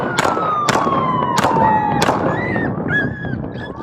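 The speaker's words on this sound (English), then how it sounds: "Shots fired, shots fired." Four loud gunshots crack out in quick succession during a tense police encounter with an armed suspect, the sharp reports close and evenly spaced over a noisy background, followed by faint electronic warbling tones like a siren or radio.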